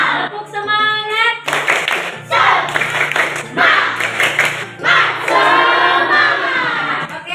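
A class of schoolchildren does a rhythmic spirit clap, bursts of patterned group clapping mixed with children chanting along in unison, loud and close in a classroom.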